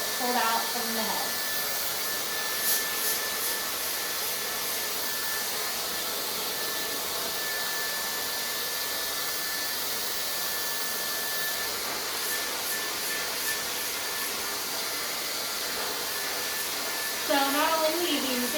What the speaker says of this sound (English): I am essentially just drying the hair that's pulled out from the head.